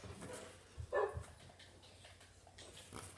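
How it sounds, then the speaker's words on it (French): Dog barks and whimpers from a Minecraft survival game: a short cluster of yips near the middle, fairly faint against a quiet game background. "Mon chien!"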